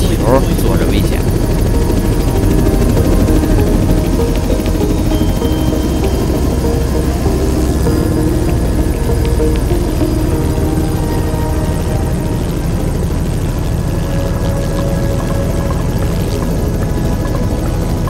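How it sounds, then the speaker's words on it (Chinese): A helicopter in flight during a sightseeing trip over Cairns produces a loud, constant rotor thump and engine drone right up close, steady throughout and heavy enough to bury any talk. "直升机的噪音太大，什么都听不见"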